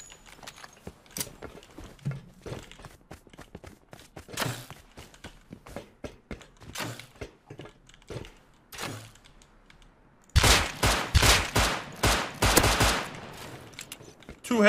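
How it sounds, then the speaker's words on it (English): Rapid revolver gunfire in the survival video game Rust, a string of sharp close shots under game footsteps and ambient noise, ending in a loud burst of several quick cracks. "Two headshots and a body shot for my guy with a fucking Revo."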